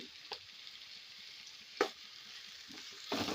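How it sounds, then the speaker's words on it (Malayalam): Sliced onions sautéing with salt in a pan give off a soft, quiet sizzle, broken by a few sharp scrapes of a spoon and a louder stir near the end, heard close up with no voices. "നല്ലപോലെ ഒന്ന് വഴറ്റിയെടുക്കുക ഇനി സബോള നല്ലപോലെ വഴന്ന് വരട്ടെ"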